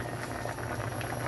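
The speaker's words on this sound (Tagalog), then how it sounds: "simmer yung gata sa chicken. Yan. Ayan, kumulo na siya." Coconut milk (gata) simmering with chicken in a pot, a dense continuous bubbling boil heard up close with no voices.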